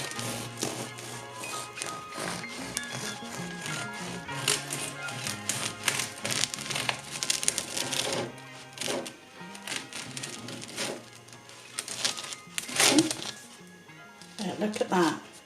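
A bread knife sawing through a fruity malt loaf: a series of close, crisp crunching and scraping strokes, with a person talking over and between them.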